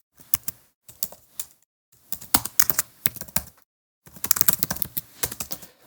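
Rapid bursts of keystrokes as HTML code is typed on a computer keyboard, coming in clustered runs separated by short silent pauses; close, crisp and alone with no voice.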